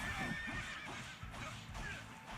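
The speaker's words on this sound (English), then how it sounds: "Hitting an innocent horse. How could you?" Horse neighing after being hit in the video game Fire Emblem Warriors, a clear whinny with faint hoof clip-clop, fairly quiet and alone.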